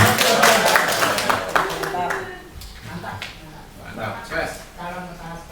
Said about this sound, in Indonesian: Sekali lagi tepuk tangan untuk Pak Marsudi.